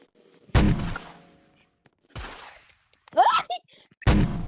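Gunfire in a computer video game played with a mouse: a few loud, sharp shot bursts with short decaying tails, spaced apart across a few seconds, with a brief voice-like chirp between them.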